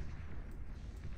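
Long-ranged railgun cannons of the Legion faction fire in a Beyond All Reason 8v8 deathmatch, a dense, continuous low booming rumble of battle lasting about a second.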